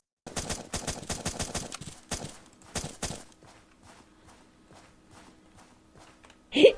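Gunfire in the Zombs Royale video game: a rapid burst of close, loud shots, then a few more separate shots, fading into softer scattered footstep-like clicks and a final sharp sound.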